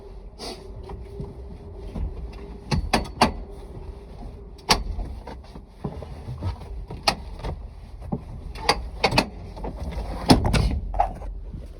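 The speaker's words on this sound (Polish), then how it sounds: "Czyli fotel możemy złożyć na płasko." The passenger seat of a 2019 Mercedes-Benz Citan 1.6 CDI van is folded flat, with a series of close plastic clicks, latch clunks and fabric rustles in irregular bursts and a heavier thump near the end.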